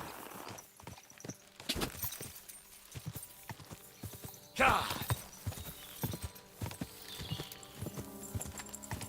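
Horse hooves clip-clop in a steady walking rhythm in the medieval game Kingdom Come: Deliverance II, close and fairly loud, with a brief whinny-like burst midway and faint game ambience around them.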